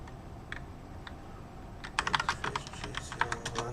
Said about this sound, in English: Type right now.